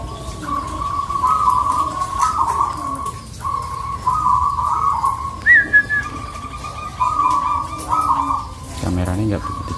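Perkutut (zebra dove) cooing close by in a series of repeated soft, rolling whistled coos with short gaps, over faint background noise and a brief rustle near the end.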